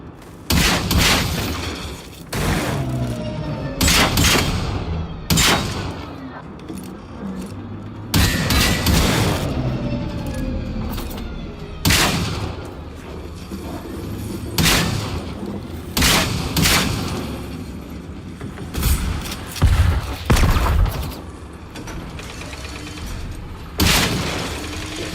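Gunfire rings out in Generation Zero, a game set in late-1980s Cold War Sweden. Loud, separate shots and short bursts repeat irregularly over half a minute, with heavy booms and metallic clatter between them.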